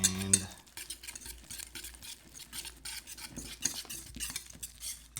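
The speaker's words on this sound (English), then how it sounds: "And we're just going to whisk that up to make a nice little paste." Grated pecorino whisked into egg yolks in a bowl: close, rapid, rhythmic scraping and clicking of the whisk that continues steadily throughout, with no talking.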